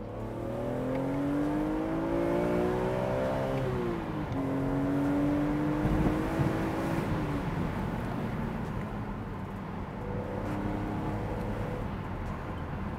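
A BMW Z4 M Roadster engine pulls hard, its steady rising whine climbing through the revs, dipping at a gear change, then climbing again, heard from inside the car over a constant road roar.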